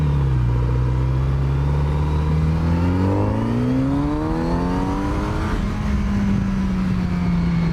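A Kawasaki Z900RS motorcycle engine drones loudly up close, its pitch rising as it revs and accelerates, then settling into a steady hum.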